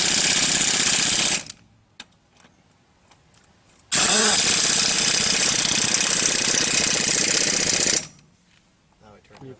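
An air impact wrench on a home compressor, working on a 1978 Dodge D100 truck, fires in two loud rattling bursts separated by a quiet pause, close by.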